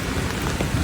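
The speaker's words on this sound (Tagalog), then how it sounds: "Malakas na yung hangin tsaka yung ulan." Heavy rain from Super Typhoon Uwan pours over a city in a constant, loud hiss of dense drops that continues unbroken through the whole stretch.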